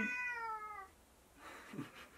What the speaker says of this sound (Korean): 저희 집에 고양이가 있는데 너무 귀여워. 네, 지금 왔다 갔다 하고 있어요.